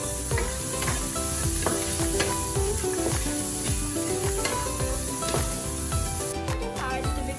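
Carrots frying and being stirred in a pan, a steady loud sizzle with repeated scraping stir strokes throughout, and a faint voice now and then.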